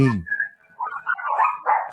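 Dogs at a home bark and yip in a short, close burst, a sharp bark followed by whining, yelping sounds.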